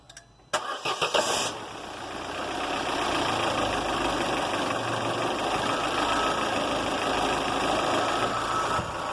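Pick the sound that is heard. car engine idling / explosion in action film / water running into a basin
car engine idling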